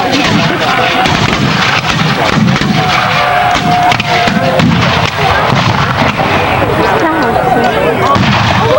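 Cannons boom amid rolling gunfire at an outdoor Civil War reenactment battle, loud dense blasts and crackling volleys continuing without break, with voices mixed into the din.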